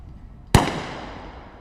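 A single sharp sniper rifle shot at a SWAT team challenge, a loud sudden crack followed by a long fading echo across open ground.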